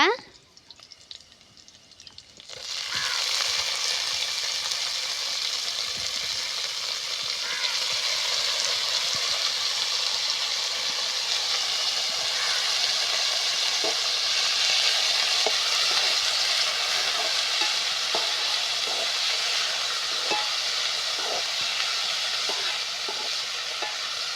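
Carrots and beans sizzle loudly in a hot pan after a clatter of dropping in, with occasional scraping stirs over a steady frying hiss.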